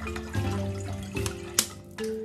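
Spring water is poured into a container to melt chopped African black soap, making a short, close gurgling pour with bubbly splashes and a few brief pauses.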